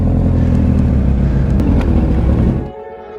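Honda CBR600RR and Yamaha R1 sport bikes roar past close by in a loud, sustained flyby, engines droning high before the sound drops away abruptly near the end.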